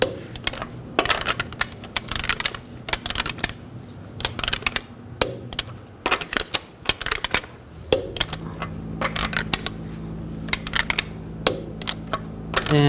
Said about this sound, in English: Now I'm going to torque the lug nuts to 100 foot-pounds in a star pattern to tighten the wheel